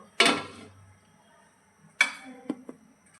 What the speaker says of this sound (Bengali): এটাকে আবারও ঢাকনা দিয়ে ঢেকে দেব।